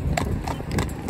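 A cob horse named Flash walks through town traffic, his hooves striking the road in a quick, close clip-clop of four distinct beats over about a second.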